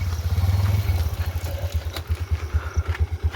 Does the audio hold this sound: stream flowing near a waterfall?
no